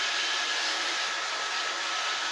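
An iRobot Roomba 770 robotic vacuum cleaner runs indoors, producing a steady broadband whirring hiss with no breaks, close and alone.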